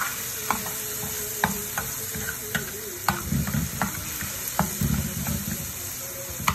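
Tomato sauce frying in a pot toward a golden color for a lamb and okra tagine, a steady sizzle broken by repeated clinks and scrapes of a stirring utensil.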